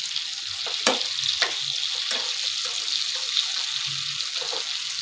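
Pangas fish frying in oil in a pan over a low gas flame, a steady close sizzle with a few sharper crackles and pops, no one talking.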